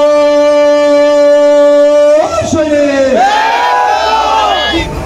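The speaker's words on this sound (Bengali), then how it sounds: "আমি স্লোগান ধরবো, আমার সাথে সবাই স্লোগান ধরবে" Crowd at a labour union office opening in Chandgaon, shouting slogans together in loud, sustained massed voices, one strong voice leading at first before the group joins in.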